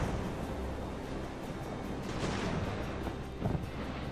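Naval cannon fire from sailing warships in the game Ultimate Admiral: Age of Sail, a dense rumbling barrage of low booms with a sharper report near the end, steady and fairly faint.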